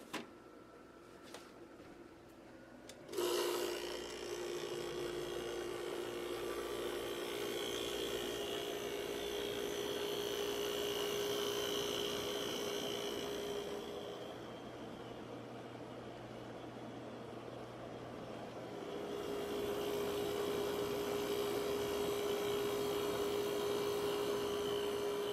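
A window or room air conditioner switches on with a click and settles into a steady mechanical hum and whir, its tone shifting partway as the compressor cycles, heard close and alone on a late-September day.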